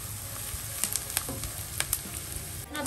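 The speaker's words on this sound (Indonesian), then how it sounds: "Tumis sebentar sampai beraroma. Nah, masukin juga bawang putih." Garlic and spices sauté in a non-stick pan with a wooden handle, giving a steady close sizzle with a few sharp crackles and pops and no talking.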